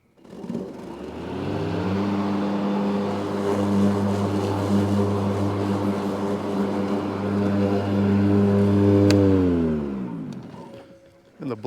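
A Bad Boy battery-powered lawn mower with its blades spinning at speed 2, a loud steady droning whir that holds for about ten seconds, then winds down.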